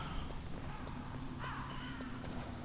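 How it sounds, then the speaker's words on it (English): A crow caws several times in the Metal Gear Solid video game, a harsh, repeated call over a low ambient hum, fairly faint and without talk. "fucking bird. Scared the hell out of me"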